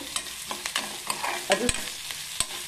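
Onion sautéing in hot oil tempering with cumin and capsicum for avalakki sizzles in the pan while a spoon scrapes and stirs in quick irregular strokes, close and clear; a voice speaks a single word.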